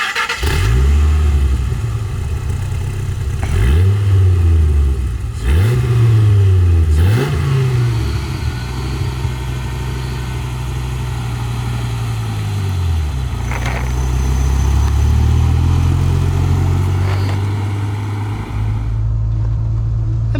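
Dodge Viper engine revving while driving, with several loud rising-and-falling revs early on, then a sustained deep engine drone that climbs and holds near the end, with no talking.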